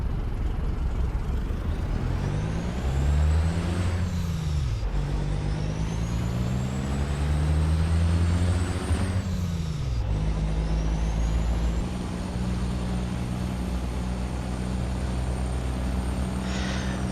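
A truck rolling downhill in American Truck Simulator, with a steady engine drone whose pitch rises and falls through gear changes and a couple of sharp air-brake hisses, continuous and close.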